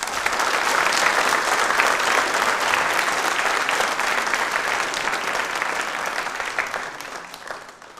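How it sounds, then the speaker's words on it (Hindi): Loud applause from an audience at a Babasaheb Ambedkar birth anniversary programme, thick, continuous clapping that fades slightly at the end. "तो बाबा साहब के लिए जोरदार तालियां"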